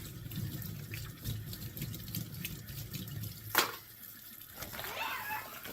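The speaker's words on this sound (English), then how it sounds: "Just rinse, put them in there, rinse." Dried red chilies rinsed in a sink under a running tap, a steady wash of water with splashing and a brief louder gush near the end, heard alone without talk.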